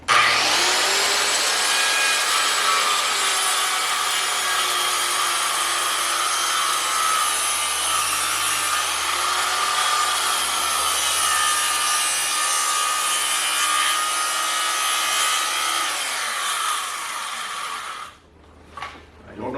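A hand saw cuts a timber frame joint for a cabin, a steady, loud rasping run of strokes for most of the time that stops near the end with a few knocks.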